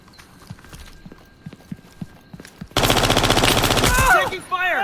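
Gunfire in the video game Incursion Red River: a sudden loud burst of rapid automatic fire erupts after quieter footsteps and movement, continuing densely for over a second before trailing into ricochet-like whines.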